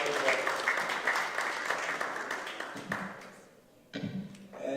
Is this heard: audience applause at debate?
yes